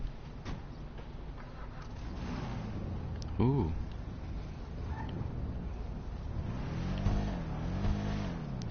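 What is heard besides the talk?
Tulip muscle car engine idling, GTA video game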